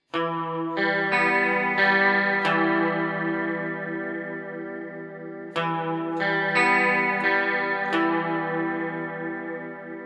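Picked electric guitar notes ring out one after another with a shimmering chorus effect, two repeated arpeggiated phrases played alone.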